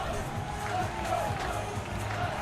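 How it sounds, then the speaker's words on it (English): Steady roar of a large stadium crowd at a Michigan Wolverines versus Alabama Crimson Tide football game, a dense continuous murmur without distinct peaks. "Crowd getting into it."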